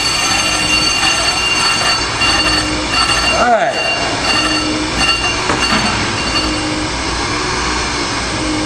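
A Hunter on-car brake lathe grinds steadily on a vehicle's brake rotor, a constant close mechanical whir and hum running throughout the clip, while someone speaks briefly over it.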